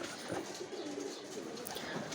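Pigeons coo softly in a small backyard pigeon loft in winter, a few low murmuring calls against a steady background hiss, faint and without voices.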